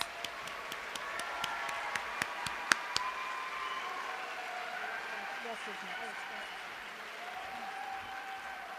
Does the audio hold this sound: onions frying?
no